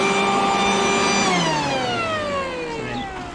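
A Mac Allister MBV2800 electric blower vac is running in blowing mode, giving a loud, steady motor whine with strong tonal harmonics. Partway through, the pitch falls as the load changes, and the sound stays close with no talk.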